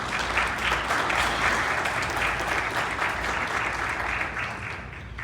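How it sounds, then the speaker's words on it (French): A room of journalists at a morning training ceremony claps steadily together, a dense, even wash of applause that carries on throughout. "je vous invite à vous applaudir"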